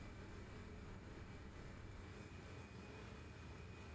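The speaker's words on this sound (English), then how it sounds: "But it's worth the noise just to see my plane." Steady jet engine roar of an Airbus A320 heard from outside the aircraft in Microsoft Flight Simulator 2020, a constant broadband drone with a thin high whine, fairly quiet throughout.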